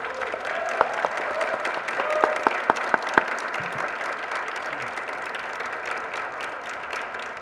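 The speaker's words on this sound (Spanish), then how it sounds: "les pido por favor un aplauso para nuestro querido autor" Sustained applause from a book-launch audience at the Guadalajara International Book Fair honoring the author, dense steady clapping across the whole span with a few sharper claps standing out early on.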